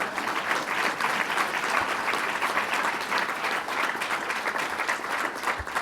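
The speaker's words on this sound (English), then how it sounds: "let's give her a round of applause" A large audience at a climate change event claps steadily for the governor's remarks. The applause is continuous and sustained, with no break and no voices over it.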